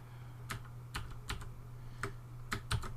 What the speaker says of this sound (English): I bought this keyboard because it's a mechanical keyboard